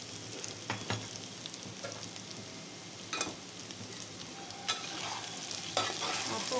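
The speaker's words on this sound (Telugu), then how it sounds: "అప్పుడు ఒకసారి కలుపుకున్నాం." Ivy gourd fry being stirred in a pan, a steady soft sizzle with a few sharp scraping strokes of the spoon at irregular intervals, close and moderately quiet, no voices.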